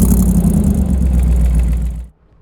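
A 1964 Chevy with a swapped-in 5.3 LS V8 runs loud and close, a deep steady rumble that cuts off abruptly near the end.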